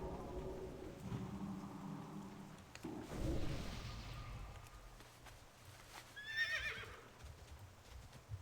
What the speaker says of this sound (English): I like a plain horse mount sometimes.